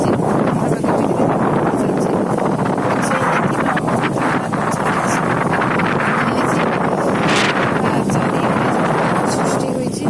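Strong wind during heavy rain in Pattamundai, Kendrapara, buffets the microphone with a loud, unbroken roar and rumble that never lets up.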